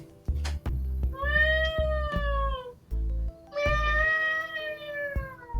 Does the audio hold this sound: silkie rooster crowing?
no